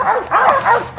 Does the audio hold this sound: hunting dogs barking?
yes